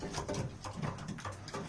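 Racing pigeons softly cooing in low, rounded murmurs, a few repeated coos close by with faint rustling, no talk.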